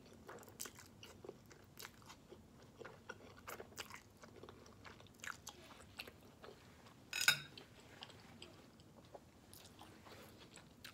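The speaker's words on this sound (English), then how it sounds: "That's why I'm eating these noodles." Black bean noodles chewed close to the mic, quiet soft squelching and smacking bites in an irregular rhythm, with one sharper louder bite partway through, no talking.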